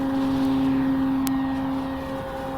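A Skynetic Bison XT STOL radio-controlled model plane with a 1750 mm wingspan, flying with its slats removed, gives a steady electric motor and propeller whine that holds one tone and fades a little toward the end.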